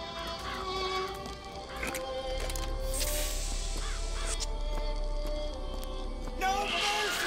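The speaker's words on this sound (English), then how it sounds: "Stay away from me, birds." Crows attack the player in Bioshock Infinite, with repeated harsh caws scattered over several seconds amid game noise, a low rumble and other effects, loud and close, with no talk over them.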